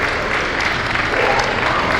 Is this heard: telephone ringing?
no